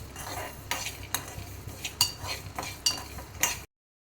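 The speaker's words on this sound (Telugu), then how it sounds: "ఇప్పుడు ఇవి దోరగా వేయించుకోవాలి." Coriander seeds dry-roasting in a pan along with fenugreek, stirred with a utensil: repeated scraping and rattling strokes at an uneven rhythm over a soft background, close and fairly quiet, no talking.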